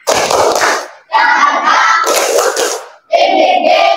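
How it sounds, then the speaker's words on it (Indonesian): A classroom group of students performs a rhythmic spirit clap in three loud bursts of patterned hand claps, each separated by a short pause, the last burst more sharply accented. "Tepuk semangat."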